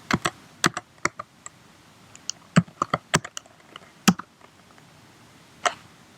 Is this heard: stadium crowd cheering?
no